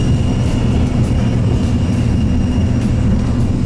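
Airliner engines roar at full takeoff power, heard from inside the cabin as a steady, loud, dense rumble with no pauses or talk.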